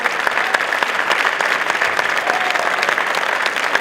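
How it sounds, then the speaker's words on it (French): Sustained applause from an audience at a sports award ceremony, the Midi Libre sportsperson of the year trophy night, a dense steady wash of many hands clapping, loud and continuous without a break. "On vous demande de l'applaudir encore très très fort."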